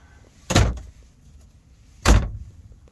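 Two solid thumps of a kitchen drawer in a 4x4 Ford E350 four-season Class C motorhome, a short wooden knock followed about a second and a half later by a second one, close by and with no talking.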